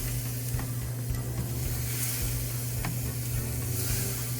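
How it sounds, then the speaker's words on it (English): Bratwursts sear on the grates of a Masterbuilt Gravity Series 560 charcoal grill, giving a steady close sizzle over a constant low hum with a few faint clicks, no voices. "let's get these directly on the grill and start searing them off"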